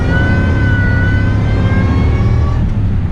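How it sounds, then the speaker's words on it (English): A loud, steady high-pitched supercharger whine over a revving Ford SVT Lightning pickup engine, rising slightly in pitch, close and continuous throughout. "That supercharger whine, you know, just like, I don't know, when you hear that"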